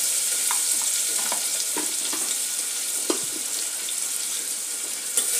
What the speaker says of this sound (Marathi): त्यातच आपण 1 मोठा कांदा बारीक चॉप करून घेतलेला आहे तो घालत आहोत।